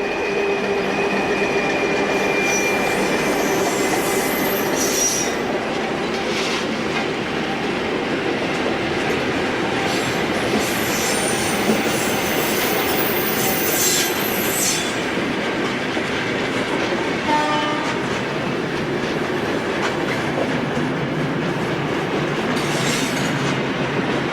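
A Portuguese Railways (CP) diesel locomotive hauls a train past at close range, its engine and wheels making a steady, loud rumble with clickety-clack over rail joints and brief metallic squeals, continuous throughout with no talking.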